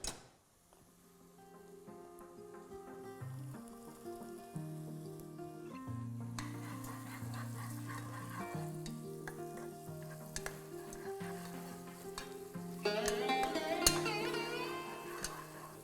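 Whole mace and green cardamom frying in ghee and oil for a ginger chicken curry, a steady close sizzle with light stirring and scattered ticks and clinks throughout, growing a little busier near the end, with no talk.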